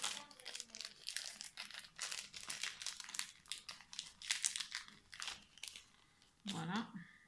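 Plastic wrapping on a package of cord-like coat fasteners crinkles and rustles in close, irregular bursts as it is torn open, with a brief voice near the end.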